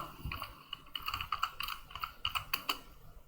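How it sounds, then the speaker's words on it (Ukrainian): Typing on a computer keyboard while entering a heading in Google Docs, a quick irregular run of close, crisp key clicks with short pauses between bursts. "Набираємо заголовок нашої статті."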